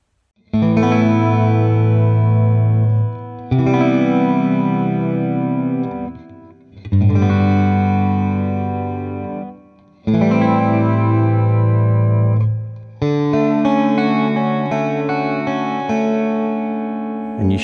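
Electric guitar run through a chorus effect pedal, playing five sustained strummed chords with short gaps between them, each ringing with a shimmering, slightly detuned doubled quality, close and clear with no talking.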